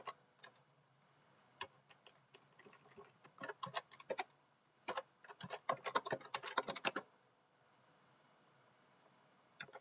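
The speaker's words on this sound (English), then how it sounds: "I get real tired of typing all that." Fingers type on a computer keyboard while writing code, with bursts of quick, light key clicks in uneven rhythm, sparse at first and then denser, close but quiet, with no voice over them.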